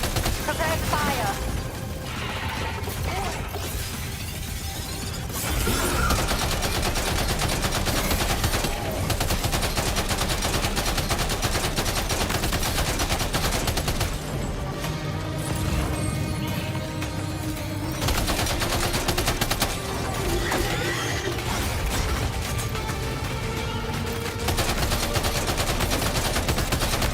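Dense, sustained gunfire with rapid bursts and heavy impacts from a firefight against many enemies in the video game Death Stranding 2, loud and continuous throughout with a voice speaking over it.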